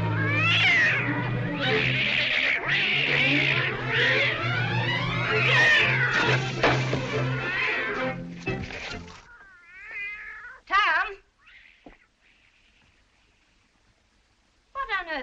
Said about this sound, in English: What on earth ails that cat?